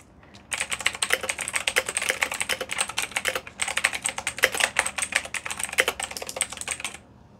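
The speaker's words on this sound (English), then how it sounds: "If you like this keyboard sound, or if this is like obnoxious and annoying to you" Rapid, steady keystrokes on a creamy-sounding keyboard, close and loud, typed alone in two dense bursts with a brief pause between them.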